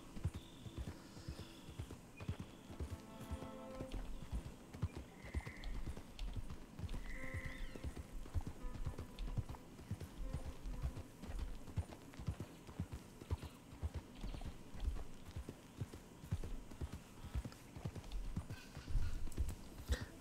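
Steady, rhythmic clip-clop of horse hooves in Red Dead Redemption 2 continues throughout at a walking pace, close and even, with faint game-like tones in the background.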